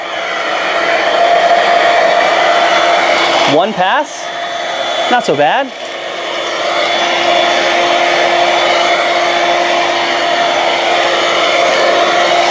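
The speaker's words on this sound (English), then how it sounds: "Don't forget to turn the vacuum on." A Dirt Devil SimpliStik SD20000RED corded 3-in-1 stick vacuum runs with a loud, steady motor whine throughout, broken by two short dips while someone speaks briefly.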